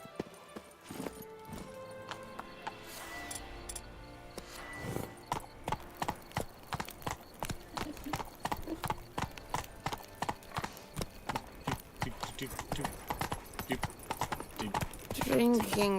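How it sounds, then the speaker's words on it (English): Hooves of Roach, the horse in The Witcher video game, clip-clop in a steady quickening rhythm that builds into a gallop, with a brief neigh, light game ambience and talking over it. "where's my horse? Roach!"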